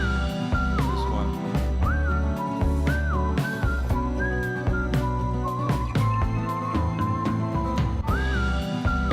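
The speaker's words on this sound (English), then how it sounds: "there are lots of very nice melodies, like the whistle theme here" A bright whistled melody from a French pop song glides and leaps between notes over a steady instrumental backing, loud and continuous throughout.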